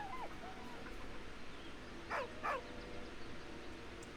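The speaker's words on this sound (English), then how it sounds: "With a deep, heartbroken whine, the dog bows his head." Scratch, a dog in Baldur's Gate 3, lets out two short, faint whines in quick succession, set against a steady low background hum.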